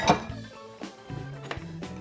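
A spoon clinks as about half an ounce of Bacardi 8-year-old rum is stirred into banana syrup, making a few sharp metallic taps with quiet swirling between them.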